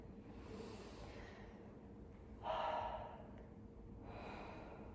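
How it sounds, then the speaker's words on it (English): A sharp inhaled gasp during a Pilates breathing exercise, one clear intake of air in a quiet room, followed by a softer breath. "And then just a nice gasp, fresh air in."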